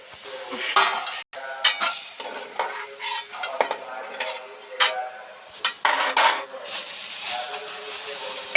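Fried vegetables for Bengali shukto stirred and lifted out of a wok of deep oil, with repeated metal utensil scrapes and clinks against the pan over a soft background sizzle.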